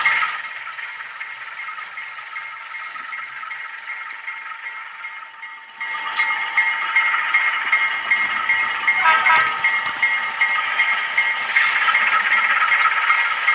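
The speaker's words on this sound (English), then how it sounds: "running my track cleaning car back and forth on the sidings" A model train with an Intermountain U18B locomotive rolls along a track with a steady whirring motor hum and light rattling clatter, growing slightly louder partway through.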